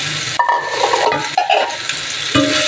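String beans for adobo sizzle loudly in a pan while a utensil stirs and scrapes through them, with a dense frying hiss and brief shifting clatters close by.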